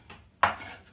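A single dull clink of a pot rim as onion goes into a cooking pot for bitter leaf with dried fish, one brief close impact that fades quickly in a quiet kitchen.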